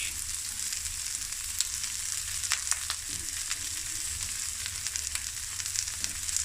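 Purple cabbage sizzles steadily in a hot pan during a vegetable stir-fry, a quiet continuous crackle with faint clicks of stirring and no talking.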